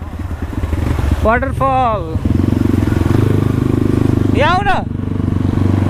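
Dirt bike riding an off-road trail, its engine droning steadily close by throughout, with brief bursts of talk over it.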